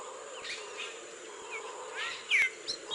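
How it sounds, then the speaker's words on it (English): Orange-billed nightingale thrush from Venezuela singing amid forest ambience: faint warbled notes early, then a couple of clearer, louder whistled phrases toward the end over a constant insect drone. "The orange-billed nightingale thrush."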